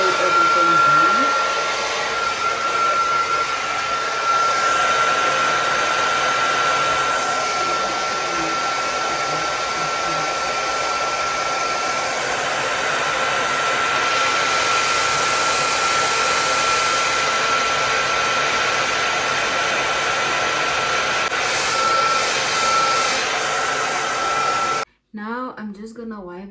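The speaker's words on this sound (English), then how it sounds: "I'm gonna go with the hair dryer using very hot air to just lay everything down" A hair dryer blows very hot air loudly and steadily over a lace frontal wig for a long stretch with a constant high whine, then cuts off abruptly near the end.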